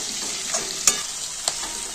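Slit green chillies and capsicum fry in a pan for chilli fish, a steady bright sizzle broken by a few sharp stirring clicks and pops.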